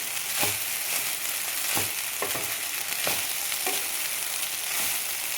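Carrot rice being stirred and tossed in a hot pan, with a steady frying hiss under repeated scraping strokes of a spoon, close and alone without voices.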